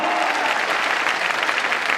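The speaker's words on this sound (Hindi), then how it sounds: "आप लोग अपने लिए एक जोरदार तालियां बजाएंगे दोस्तों, जोरदार तालियां" Loud, dense applause from an audience at a company event, continuous clapping filling the whole moment with no voices over it.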